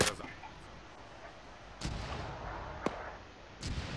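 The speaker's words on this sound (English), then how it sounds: "the government forces are calling the mortars to support their advance through the town" Mortar explosions in the video game ARMA 3 Factions during a town battle: a sharp blast at the start, then three more booming impacts at intervals over steady rumbling background, some mid-distance and one crisp and close.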